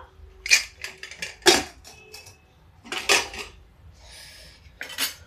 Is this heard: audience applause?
no